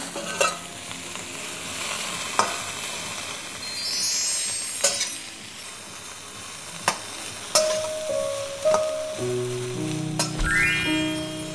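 Food is stir-fried in a small amount of oil, with a soft continuous sizzle broken by repeated scraping and clinking of the spatula against the pan. No one speaks.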